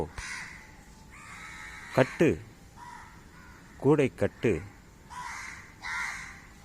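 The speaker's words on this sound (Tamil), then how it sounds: "இந்த பெண் காகம் ஆணுக்கு தெரிவிக்கிறது" A female crow caws repeatedly in short bursts, close and fairly loud, with a voice speaking between and over the calls.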